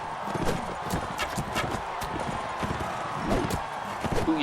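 A horse gallops in Mount & Blade battle gameplay, its hooves pounding in a fast, continuous clip-clop rhythm at close range over a busy combat background.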